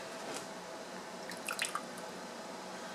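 Water drips and squishes as seedlings are set in water, giving a few small close drips clustered together in a quiet room, with no speech.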